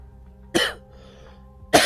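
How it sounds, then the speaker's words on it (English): A person gives two separate sharp coughs about a second apart, close and fairly loud, with quiet background between them. "You've been coughing a lot."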